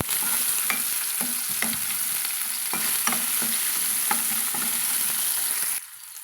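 Chopped tomatoes stirred and sautéed in a pan for a jackfruit-seed curry, a steady oily sizzle broken by regular scraping strokes of a spoon, close and continuous until the sizzle suddenly drops away near the end.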